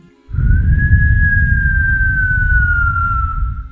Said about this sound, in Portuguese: Como se fosse um assobio.